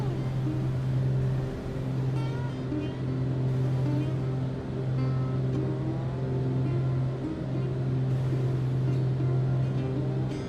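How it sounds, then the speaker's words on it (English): Steady drone of the turbocharged piston engines on a Black Square Grand Duke twin in a flight simulator cruise, a continuous low hum with a strong tonal band that stays even throughout, with no voices. "And it puts you to sleep too, I find, the engine noise."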